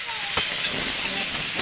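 Green chili, turmeric and salt fry in oil in a pan, giving a steady loud sizzle and hiss close by, with a brief stir near the start and no speech over it.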